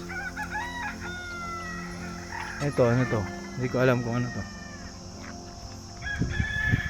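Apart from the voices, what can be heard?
chickens clucking and rooster crowing on a farm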